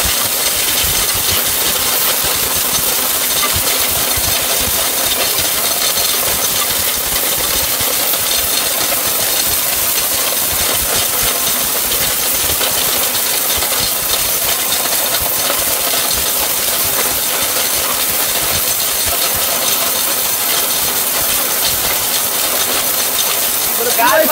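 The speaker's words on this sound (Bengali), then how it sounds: "দায়িত্ব দিবেন ব্লেন্ডারকে, ব্লেন্ডার আপনাকে পাউডার করে দিবে" Close and loud, an electric blender grinds turmeric into powder with a constant high whirring roar, while a voice talks intermittently underneath.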